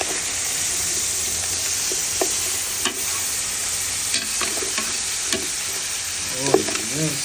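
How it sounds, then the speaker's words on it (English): Meat searing in a hot pan at a Caribbean cooking session, a steady close frying sizzle and hiss throughout, with occasional clicks and scrapes as pieces are moved, and a brief bubbling flare near the end. "So we just need a quick sear."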